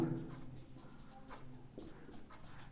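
Marker or chalk writing on a classroom board during a Class 10 geometry lesson, a soft scratchy stroke pattern that is faint and close, with a low room hum beneath.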